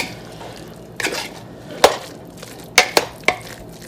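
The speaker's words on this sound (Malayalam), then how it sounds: "ബ്രോക്കോളി റോസ്റ്റ് ഇതിലോട്ടങ്ങ് ആഡ് ചെയ്തിട്ട് നന്നായിട്ടങ്ങ് സ്മാഷ് ചെയ്യണം" Roasted broccoli and potatoes being mashed in a pot, a few sharp clanks and scrapes of the masher against the metal at irregular intervals, close and fairly loud, without talk.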